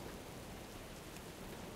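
Soft, even wash of rain ambience in World of Warcraft's Maelstrom zone, a constant broadband hiss without distinct drops, faint and uninterrupted.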